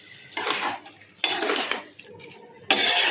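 Almond and cashew paste being stirred with a little water in a bowl, giving bursts of spoon scraping and clinking against the bowl with short pauses between strokes.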